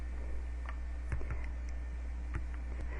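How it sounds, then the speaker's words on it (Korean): A computer keyboard's F3 key is pressed several times in a 3ds Max session, giving sparse, light clicks spaced irregularly over a steady low hum, close and fairly quiet. "제가 키보드에 F3을 한 번씩 눌러 보겠습니다."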